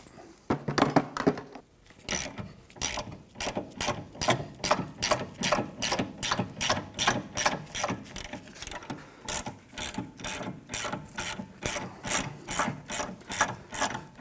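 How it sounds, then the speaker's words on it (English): A ratchet wrench loosens bolts on the rear wheel hub assembly of a 2007-2013 Acura MDX, clicking in a rapid, regular back-and-forth rhythm of sharp close pawl ticks that carries steadily for the whole stretch. "And we'll switch over to a ratchet."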